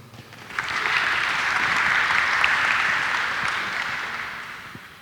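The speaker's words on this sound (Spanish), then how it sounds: "Los aplausos." A crowd at an International Mother Language Day event in Huauchinango, Puebla claps steadily for several seconds, the applause swelling quickly and then holding before tapering off, with no talking over it.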